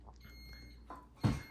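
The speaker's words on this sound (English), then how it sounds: "What's that beeping noise?" Faint electronic beeps sound a few times in a quiet room of an abandoned ghost-town building, followed by a brief louder thump or clatter near the end.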